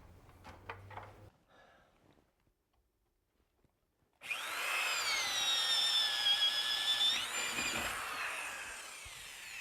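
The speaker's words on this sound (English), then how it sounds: "I'm going to start with the drilling for the outlets here in the kitchen area" A brief knock, then silence, before a power drill kicks in close and loud, its whine dipping and rising as it bores holes for kitchen outlets up into the rafter space.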